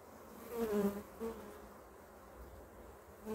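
Honeybees buzz close by around an opened hive in soft, wavering tones that swell and fade as they circle, with quiet rustling between passes.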